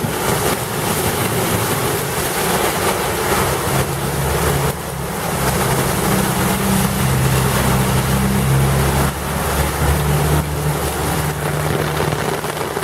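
An SUV driving through a flooded street in the rain in Cuernavaca, Mexico, a loud continuous rushing of water and engine hum with a low tonal drone, steady throughout.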